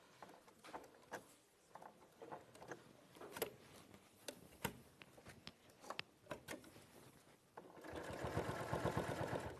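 A sewing machine top-stitches at a long stitch length in slow, uneven runs of ticking needle strokes, then speeds into a steadier whir near the end; no talk.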